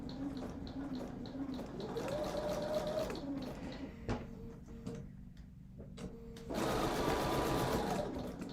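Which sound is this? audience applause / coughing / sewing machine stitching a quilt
sewing machine stitching a quilt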